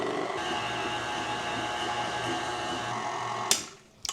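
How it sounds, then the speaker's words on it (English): A stand mixer kneads sweet bun dough with a dough hook at raised speed, a steady motor whir and rhythmic drone running evenly, then cutting off abruptly near the end with a brief clunk. "we're going to continue kneading it with the stand mixer"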